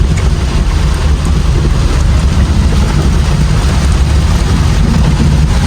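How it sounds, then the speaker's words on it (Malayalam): Heavy rain roars steadily and loudly without a break, a dense wash of noise with no voices. "നിങ്ങൾ മഴേൻ്റെ സൗണ്ട് കേൾക്കുന്നുണ്ടോ"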